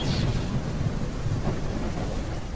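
Thunder from a Day of Dragons game trailer rolls as a loud, continuous low rumble with a rain-like hiss on top, holding steady throughout.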